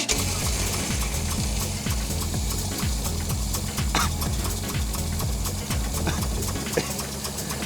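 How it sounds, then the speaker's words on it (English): A Mazda RX-7 rotary engine idles very low and rough, with a loud, close, lumpy pulsing throb that repeats steadily throughout. "Yeah, well, we got a 200 RPM idle here."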